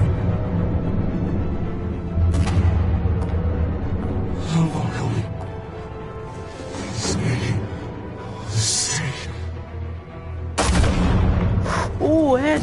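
Gunfire in the Batman Telltale series video game, several sharp booming shots spaced across the scene, mixed with music and game sounds.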